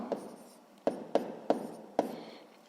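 Hand writing out a maths solution with pen on paper, five distinct short tapping strokes of marker or pen at irregular intervals, faint and close, with quiet hiss between them.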